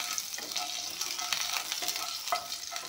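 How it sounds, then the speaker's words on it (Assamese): Whole spices, panch phoron and bay leaves, are stirred as they fry in a hot pan: a steady close sizzle with repeated scraping strokes of the spoon and no voices. "এইখিনি অলপমান লাৰি দিম"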